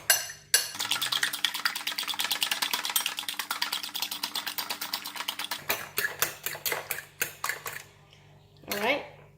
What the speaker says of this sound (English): Put all the salt in the egg and the remaining of the pepper, sesame seed oil, and we're going to beat the egg